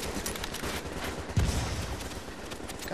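Steady, rapid enemy gunfire rattles through a Dark Zone firefight in The Division, with a louder burst near the middle; no voices are heard.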